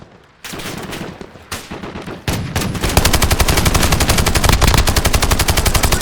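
Automatic gunfire in a video game, with a few separate shots at first, then loud, rapid, sustained machine-gun bursts that build into a continuous close rattle with no one talking.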